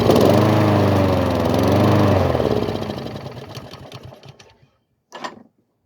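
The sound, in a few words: Honda lawn mower engine running after carburetor reinstall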